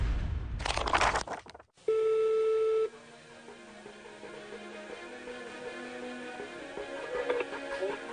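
A phone call rings on the line as one steady electronic tone lasting about a second, preceded by a brief noisy burst and followed by quieter background tones.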